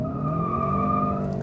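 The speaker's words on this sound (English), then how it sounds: "I can come to a dead stop in this car and just get tire squeal every time I take off." A 2016 Kia Optima with all-season tires squeals hard while pulling away from a dead stop, giving a steady, loud, close, high-pitched screech over engine rumble, with no talking.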